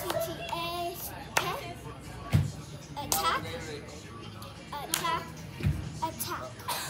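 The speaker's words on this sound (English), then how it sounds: "you're just clapping and doing the song" Children clap their hands in a sung clapping game, with several distinct sharp claps spaced irregularly among continuous kids' voices singing and talking nearby.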